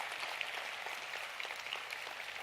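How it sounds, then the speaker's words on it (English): A crowd at a pitch competition semi-final applauds the 20 semifinalist companies with a steady, fairly faint wash of clapping that stays even throughout. "Please, a huge round of applause for all 20 companies."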